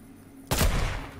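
A single sharp, loud sniper rifle shot in a video game cracks out of near silence, with a booming tail that rings and fades over the next half second.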